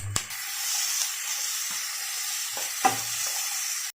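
Chicken butter masala base of tomato, cashews, chilli powder and salt sautéing in a pan, giving a steady close sizzle and hiss with a few soft stirring scrapes and clinks.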